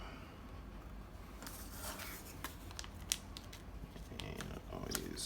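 A mushroom grow bag is peeled back by hand, faint crinkling and tearing rustles of plastic in short bursts, with soft background hum.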